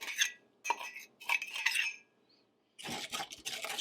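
A utensil stirs a brown sugar mixture for a pork roast in a bowl, with a few short scraping, clinking bursts separated by brief pauses.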